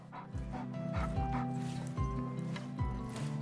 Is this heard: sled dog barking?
yes